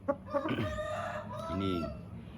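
Rooster crowing with chickens clucking on a rooster farm, a close, loud crow over short clucks in a pen.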